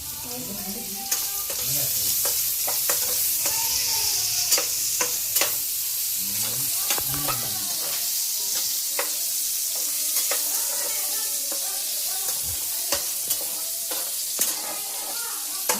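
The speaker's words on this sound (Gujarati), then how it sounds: "વધારે ફ્રાય કરવાની જરૂર નથી, બસ ખાલી તેલમાં ટચકચું થવા દેવાનું છે." Food fries in hot oil in a home kitchen pan, a continuous bright sizzle layered with scraping stirs and utensil taps, close and steady throughout, and voices murmur faintly in the background early on.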